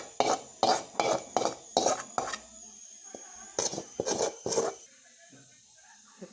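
Sautéed spinach being mixed by hand into flour dough in a bowl, a run of rhythmic squelching slaps and pats that trails off into quieter scattered touches.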